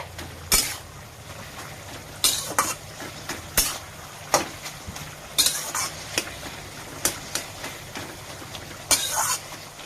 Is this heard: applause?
no